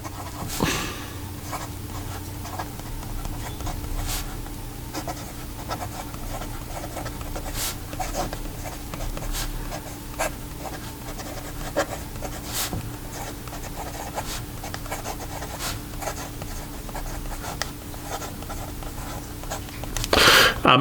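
A fountain pen with a 1.1 stub nib scratches across paper in a long writing sample, close and steady, with short strokes, faint rhythmic scraping and occasional louder ticks as the nib lifts and lands, with no talking.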